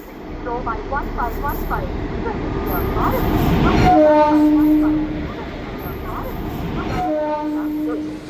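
A train rumbles nearby at a railway station with a steady mechanical drone, joined by sharp whistle-like tones, while people talk in the background.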